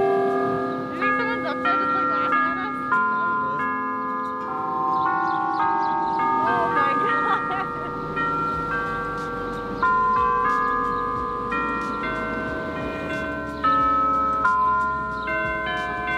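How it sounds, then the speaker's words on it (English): Loud church bells peal from Park Street Church in Boston, a historic church founded in 1809, ringing repeated overlapping tones close by with some faint background voices. "That is very loud bells."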